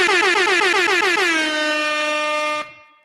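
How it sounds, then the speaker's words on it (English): A loud air horn sound effect played during a sports talk show blasts in a rapid stuttering burst, settles into one sustained blare, then cuts off with a short fading tail. "it feels so good to have the actual This Shit More Than the Game air horns back"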